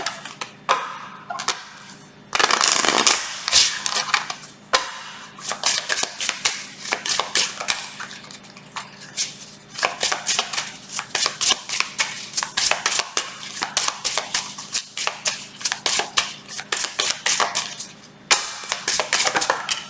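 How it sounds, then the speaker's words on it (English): Repeated crisp riffling and snapping of shuffled cards, a steady flurry of close papery clicks with brief pauses between bursts. "Let me do one more shuffle for you guys."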